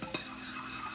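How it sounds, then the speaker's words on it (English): A spoon briefly clinks as lemon juice is stirred into a dish in a home kitchen, followed by a soft, steady background hiss that could be cooking on the stove. "We're going to add 2 teaspoons of the lemon juice to this. And give it a stir."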